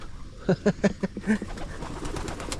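Pigeons at a pigeon loft give a short run of soft, throaty coos, four or five pulses in quick succession. Quieter ambient noise and faint chirps follow.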